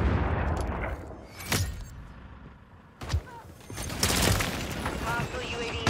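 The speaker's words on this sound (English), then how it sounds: "Enemy precision airstrike. Find cover." Precision airstrike explosions go off in a first-person shooter game as booming blasts and crackling bursts, with a heavy thump midway. Game voice chatter and speech overlap the explosions.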